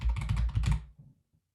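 Rapid keystrokes clatter on a computer keyboard in a short, close burst of about a dozen clicks lasting under a second, then a couple of faint trailing taps before silence.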